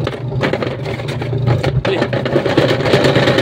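A Fujidenzo single-tub washing machine motor spins the tub after a repair, a steady, loud mechanical whirring and humming that runs on continuously and close up, with no voices over it.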